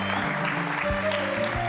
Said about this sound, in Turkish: Alkışlıyoruz efendim.